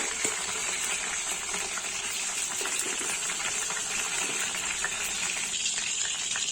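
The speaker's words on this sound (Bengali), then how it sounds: "চিকেন গুলোকে একটু লাল লাল করে ভেজে নেব।" Chicken pieces fry in hot oil with a dense, even hiss and crackle that holds steady throughout, close by and with no voices.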